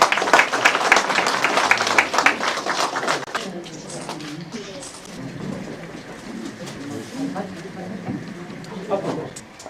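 Applause at a year-end gathering of a regional arts and culture association in Hamyang, during an awards ceremony; loud dense clapping in the first few seconds, then thinning into scattered claps under a voice and room murmur.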